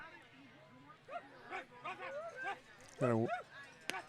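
A baseball crowd imitates dogs with a run of barks and yips, voices over the game, ending in one louder bark.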